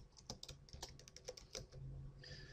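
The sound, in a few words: typing on a computer keyboard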